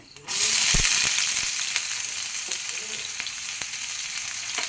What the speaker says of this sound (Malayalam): ചുമന്നുള്ളി നന്നായി ഒന്ന് മൂക്കട്ടെ.